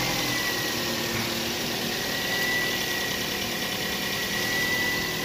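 An overhauled 2NZ engine idling with a misfire, giving a steady, close mechanical hum with faint uneven roughness throughout and no talking.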